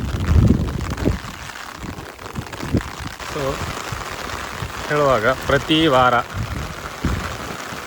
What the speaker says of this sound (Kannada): ಇವತ್ತು 22 ಇವತ್ತು ಮಳೆ, ಶನಿವಾರ ಸಾಯಂಕಾಲ.